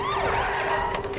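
Police car siren wailing loudly with a sweeping rising and falling tone, close and continuous, over a low engine rumble.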